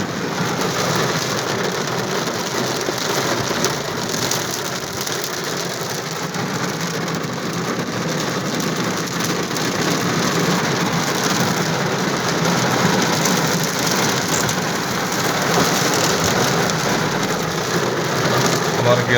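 Heavy rain falls in Riyadh, Saudi Arabia, as a steady, dense hiss of downpour that holds at an even level throughout, with a faint low rumble underneath.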